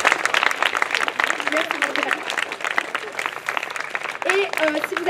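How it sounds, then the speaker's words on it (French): A theatre audience at the Théâtre National de Nice claps continuously, a dense, close patter of hands with voices talking over it. "On peut les applaudir."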